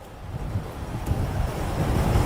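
Wind gusting through the woods outdoors, a low rumbling buffet that swells and thickens toward the end, with no voices.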